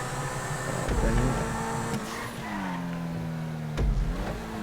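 A Lamborghini races in GTA V, its engine holding a steady loud drone that rises and falls in pitch through gear changes, with a couple of brief sharp knocks and a scraping skid along the way.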